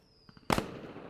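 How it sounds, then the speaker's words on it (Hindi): Faint taps lead into one sudden loud bang, with a rumbling decay trailing after it, like a firework bursting outdoors. "बाहर आतिशबाजी की आवाज़ आ रही है।"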